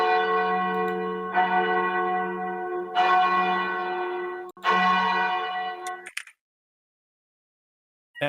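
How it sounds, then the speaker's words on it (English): A large town bell tolls at the eastern gate with deep, sustained ringing strikes roughly every one and a half seconds, each swelling and overlapping the last before the ringing stops and silence follows. "The bell towards the eastern gate would begin to toll."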